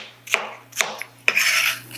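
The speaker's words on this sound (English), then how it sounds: "rough chop" A knife rough-chops de-seeded cucumber on a cutting board in a home kitchen, three sharp, close knocks spaced about half a second apart, the last followed by a brief scraping rub.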